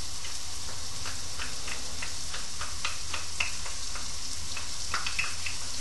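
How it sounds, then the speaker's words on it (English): Roughly chopped onions and garlic fry in a pan in a continuous close sizzle, with small crackles and pops throughout and no talking. "add in your onions. Alright, your roughly chopped onions, little dices, cook those off."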